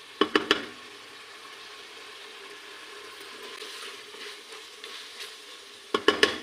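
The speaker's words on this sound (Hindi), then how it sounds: "तो यहाँ पे हम 5 से 8 मिनट तक तकरीबन बीफ की भुनाई करेंगे घी में।" Beef pieces frying in ghee for a karahi, a steady low sizzle running throughout with a few sharp stirring scrapes and clatters of a utensil at the start and again at the end.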